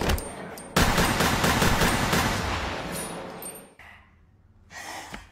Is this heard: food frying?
no